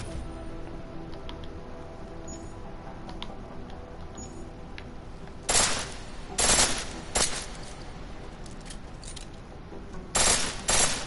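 A pistol set to full auto in Deus Ex: Mankind Divided fires in several short bursts over a quiet ambient hum, each volley a quick crackling rattle of shots, with brief pauses between groups.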